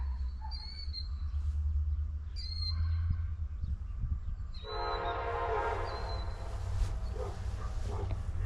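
A train in Lincoln County, Kentucky rumbles steadily past while its horn sounds in several short blasts, then one long blast, with a low continuous rail roar underneath.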